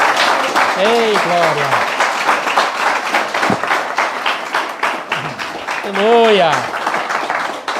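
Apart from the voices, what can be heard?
congregation clapping for Jesus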